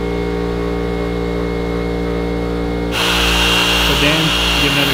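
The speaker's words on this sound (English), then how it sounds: "Doing a test pass of actual polishing." A power polisher hums steadily at first, then revs louder as it starts working compound into faded boat gelcoat, the motor pitch wavering under load in the final seconds.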